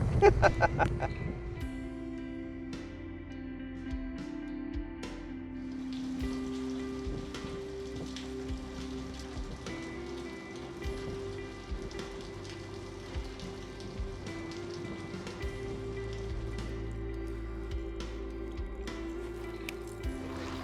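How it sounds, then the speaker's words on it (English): Rain patters steadily on a kayak and the surrounding water in a Louisiana marsh, a dense continuous hiss of drops that builds into a heavier downpour, with a low hum underneath. "It's starting to rain"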